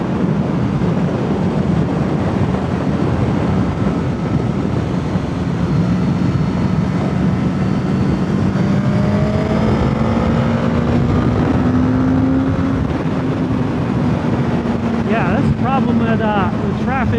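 A Suzuki GSX-S1000 motorcycle engine hums and revs while riding through curves, its tone rising and falling under heavy wind rush, with a voice talking over it.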